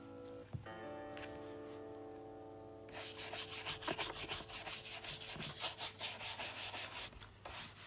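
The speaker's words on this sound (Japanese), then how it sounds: "この馬毛ブラシを使って表面のホコリを落としていく作業を行います。" A horsehair brush sweeps dust off the surface of leather shoes, starting after a quiet, faintly humming lead-in with a couple of light knocks, then a fast run of close, rhythmic scratchy strokes in quick repetition.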